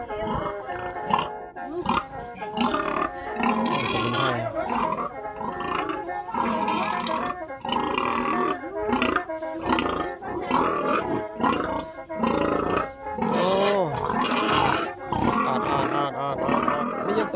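Piglets and pigs at a village farm in Yasothon, Thailand, grunt, squeal and snort densely and loudly for the whole stretch, a close, constant chorus of livestock noise with no pause.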